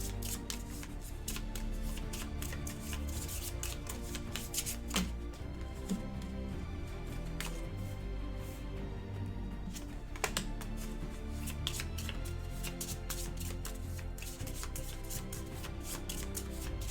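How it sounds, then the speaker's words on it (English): Cards riffled and bridged while shuffling a deck during a Marvel Legendary deck-building game with the Dark City expansion, a steady papery flutter with occasional sharper snaps and taps, close and alone with no talking. "So I need to shuffle again."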